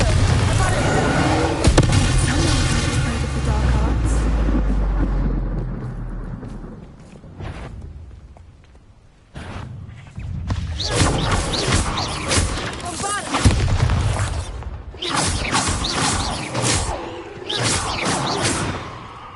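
In the video game Hogwarts Legacy, a Bombarda spell bursts midway with a deep booming crash, followed by rumbling, clattering debris and busy game sounds, loud and close.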